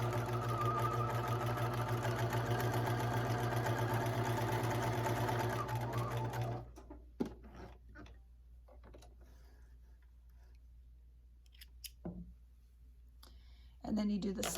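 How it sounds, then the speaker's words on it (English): A sewing machine stitches a row on a fleece pullover, running in a steady rapid close chatter for about six seconds, then stopping, followed by quiet handling clicks and a brief restart at the end. "you're going to go and do another row of stitching"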